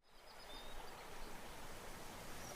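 An anime waterfall rushes as a steady, broad hiss of falling water, continuous and fairly faint throughout with no voices.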